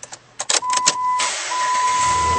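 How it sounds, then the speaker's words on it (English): A 2006 Dodge Ram 2500 pickup with a 5.7 liter V8 cranks over in a few short bursts, then catches and settles into a steady, close, loud idle rumble. "We always like to start these vehicles up for you,"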